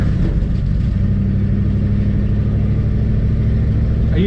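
A 1979 Dodge D100 step-side barn-find pickup's engine runs loud and close, a steady rumbling idle with a constant low drone and no talking.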